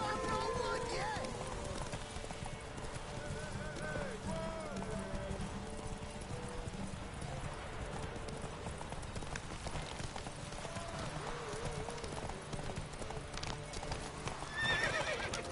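A horse in The Witcher 3: Wild Hunt gallops with steady clip-clopping hooves and lets out whinnying neighs, while voices talk over the sustained game soundscape.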